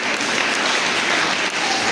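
An audience applauds at a Sunday school children's drama competition, with steady, dense clapping from a crowd filling the whole moment without a break.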